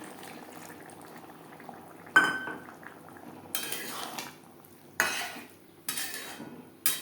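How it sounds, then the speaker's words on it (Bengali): Chickpea boiling water is added to a masala in a pan and stirred, a soft bubbling simmer broken by several sharp spoon-against-pan scrapes and clinks at irregular intervals. "আমি এখানে ছোলা সেদ্ধ করা জল অ্যাড করলাম"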